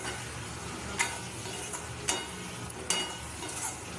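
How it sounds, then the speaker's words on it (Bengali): Egg curry masala sautés in oil, with a steady soft sizzle and a few distinct scraping stir strokes spaced a second or so apart, heard up close with no voices. "এবার একটু সামান্য একটু জল দেবো, দিয়ে কষিয়ে নেব"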